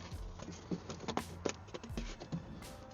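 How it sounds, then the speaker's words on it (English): Rain falls outdoors around a scrap van under repair, a faint, light patter of scattered drops with a few sharper taps, quiet and continuous with no talking. "Oh, it's raining."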